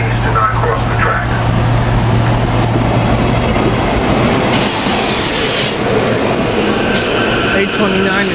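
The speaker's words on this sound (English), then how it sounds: "Warning, a train is approaching the crossing." Commuter train rolling past the Cornwells Heights rush-hour platform, a steady loud rumble of railcars with wheel noise and a brief high squeal partway through, under a recorded crossing warning announcement.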